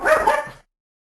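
A pet dog lets out a single sharp, close bark with a quick double rise, then cuts off abruptly into silence.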